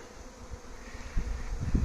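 Honeybee swarm buzzing at an apiary in Santeny, a soft continuous hum with low rustling bumps growing louder toward the end, no voices.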